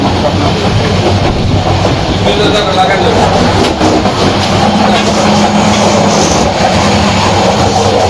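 A moving train rumbles and rattles steadily throughout, loud and close, while a person briefly speaks over the noise.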